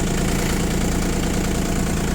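A Japanese-built Iseki Sial TA247F mini tractor with 833 engine hours idles close by, a steady, loud diesel rumble with an even knocking pulse and no talking.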